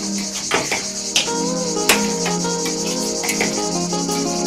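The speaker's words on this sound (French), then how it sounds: "Oh, tu entends les cigales?" Cicadas buzz in a loud continuous drone on a summer day in Provence, with a few clicks and faint sounds close by and no talking.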